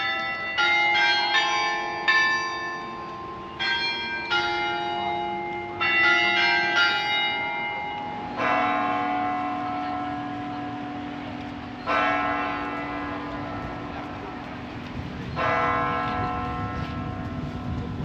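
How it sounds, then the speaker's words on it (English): Church bells ring out at 11 AM in Reykjavik, a peal of overlapping strokes with repeated clusters at first, then slower, heavier single tolls that hang and decay, loud and clear with no voices. "we should hear the bells at 11 AM"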